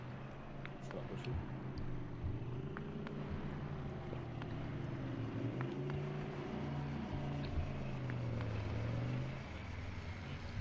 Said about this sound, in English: I think I hear another vehicle engine